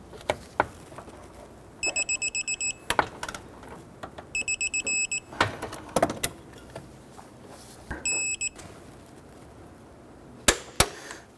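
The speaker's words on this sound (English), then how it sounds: "We're going to torque down our 3 bolts for our motor mount to the cradle to 48 foot-pounds." A torque wrench tightens the engine mount bolts on a 1992-1996 Toyota Camry 2.2L I4. Sharp ratchet clicks come first, then three separate bursts of rapid high beeping as each bolt reaches torque, with more clicks and clanks close by.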